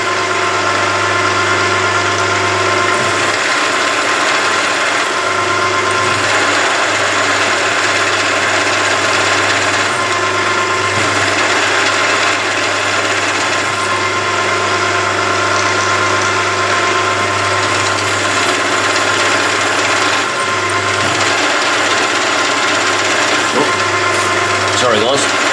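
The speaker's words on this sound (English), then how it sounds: "We're drilling M6, or 6mm. We're at 960 RPM, and we're drilling 50mm." A machine drills a 6mm hole 50mm deep at 960 RPM, giving a loud, steady motor hum and whine that holds almost unchanged for the whole stretch.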